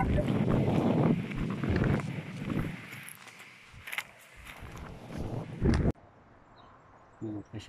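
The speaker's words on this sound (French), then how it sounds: "malgré qu'il y a beaucoup de vent" Strong wind buffeting a microphone outdoors at a bunker site, producing gusty rumbling bursts that rise and fall, with a person talking underneath for much of the time before the wind briefly drops.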